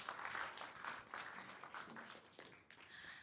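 An audience at a conference group-discussion session claps after a presentation, a steady burst of applause from a room full of people lasting a few seconds and fading slightly at the end.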